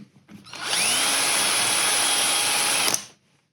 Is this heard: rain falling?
no